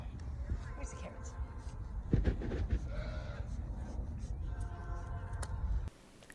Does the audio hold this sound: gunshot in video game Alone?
no